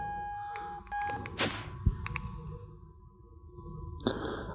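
Faint electronic beeping from a circuit in the virtual reality game Short Circuit VR, a steady tone followed by scattered clicks and soft handling noises.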